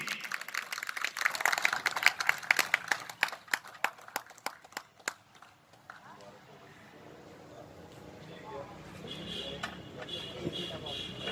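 An audience claps to welcome a guest onto the stage at a pigeon tournament event, a burst of brisk scattered claps over the first few seconds that thins out, with a voice talking over the room.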